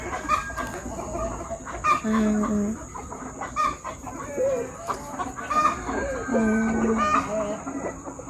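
Hens at a Philippine poultry farm cluck and cackle in repeated short bursts, near and fairly loud, over a constant high electrical hum, with a person talking intermittently underneath.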